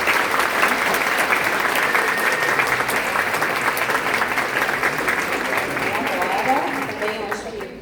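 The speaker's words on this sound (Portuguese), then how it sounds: "Acho que uma salva de palmas para essa" A lecture audience breaks into a strong round of applause, dense and loud from the start and sustained for several seconds before easing slightly at the end, with crowd murmur mixed in.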